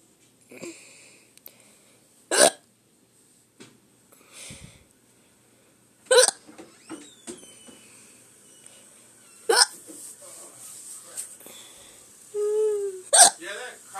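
Sharp, isolated hiccups recur every few seconds, close and fairly loud, with quiet breathing and faint sniffs in between and a short voiced sound near the end.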